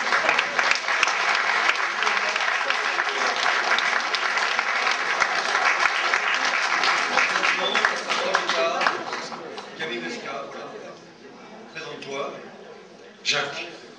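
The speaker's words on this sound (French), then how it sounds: "Alors on applaudit." Audience applause fills a hall, dense and sustained with cheers and chatter mixed in, then thins into scattered claps and a few voices before one last burst near the end.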